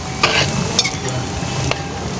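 Snacks frying in hot oil give a steady, close sizzle with a few sharp crackles and pops scattered throughout.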